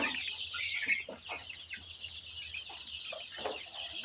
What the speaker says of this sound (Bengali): প্রথমবারের মতো দুইশো দেশি মুরগির বাচ্চা তুলেছি